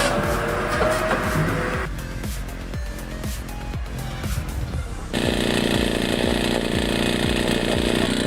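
Chainsaw fixed in place as a stationary cutting station, running loud and steady as it cuts through wood, with a brief dip in the middle before the engine roars back up at full pitch.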